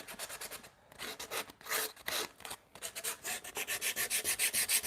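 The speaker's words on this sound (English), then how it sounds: "So what I'm just doing is just sanding the edges here." Hand sanding along the rough wooden edges of a timber-frame bunk bed ladder: close, brisk back-and-forth rasping strokes, bursty at first, then settling into a steady quickening rhythm, with no talking.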